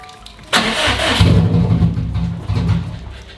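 A car engine fitted with a new turbo cranks and catches, firing up loudly after a short quiet moment and settling into a rough, steady running rumble.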